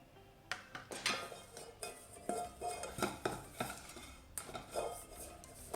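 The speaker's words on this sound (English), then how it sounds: "now that my dish is greased with butter" Metal utensil scraping and tapping against a bowl while butter is spread inside, a series of close, light clinks and scrapes in an irregular rhythm, with no voices.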